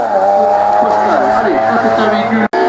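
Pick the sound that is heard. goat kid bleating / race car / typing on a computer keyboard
race car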